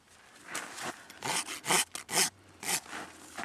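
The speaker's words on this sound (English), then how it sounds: "I'm just going to use the rasp now to" A hoof rasp files down the hoof wall of a laminitic horse during rehab trimming, giving repeated rough scraping strokes in an uneven rhythm, close and moderately loud with brief pauses between strokes.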